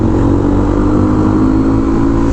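A motorcycle fitted with a Yoshimura exhaust roars steadily at high revs, loud and close, a dense continuous engine drone with no talking.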